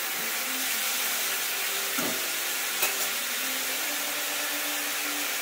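Onions fry in a pan with a constant, dense sizzling hiss, a couple of faint stirring knocks rising out of the steady noise.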